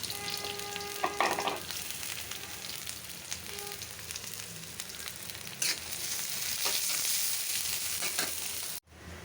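Chopped onion and green chilies fry in a pan for a fish bhuna, giving a steady, close sizzle with occasional clinks and scrapes of stirring and no voices.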